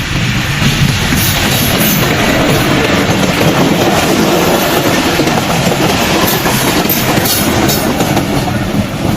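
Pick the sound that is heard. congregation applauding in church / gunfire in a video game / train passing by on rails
train passing by on rails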